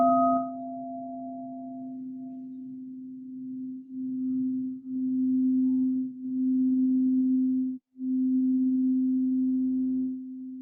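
A root chakra singing bowl rings with a pure, sustained low tone, struck or rubbed repeatedly so the hum swells and briefly dips, soft and alone in a quiet room.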